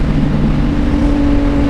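A CFMOTO 675NK motorcycle pulls in fourth gear, its engine a loud, close, steady drone with a tone that rises slightly as it accelerates.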